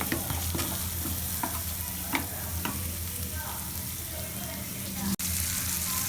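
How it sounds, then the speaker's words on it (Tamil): Masala fries in oil for prawn thokku with a continuous close sizzle and repeated stirring scrapes, ending on a brief sharp knock near the end. "இப்போ இந்த எண்ணெயிலேயே இந்த மசாலாவை நல்லா வதங்க விடுங்க ஒரு 2 நிமிஷத்துக்கு."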